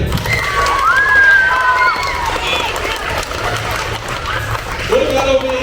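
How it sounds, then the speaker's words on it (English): An elementary school assembly audience breaks into clapping and cheering, a broad crowd wash of applause with children's voices calling out and an adult voice speaking over it. "go ahead and start clapping"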